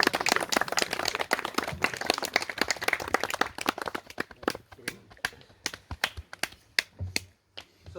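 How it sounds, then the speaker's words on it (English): Light applause and scattered hand claps at a wedding ceremony, a busy patter of claps at first thinning to a few separate sharp claps, fairly close with a roomy background. "A little applause."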